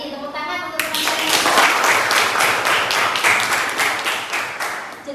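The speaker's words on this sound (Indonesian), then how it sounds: "Tepuk tangan untuk teman-teman." Students in a classroom guidance session break into applause after a voice speaks briefly, a loud, dense run of clapping that carries on steadily before tapering slightly.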